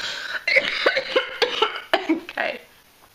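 A run of rough, hacking coughs repeating in uneven bursts, close by, with a throaty, congested quality and brief pauses between them.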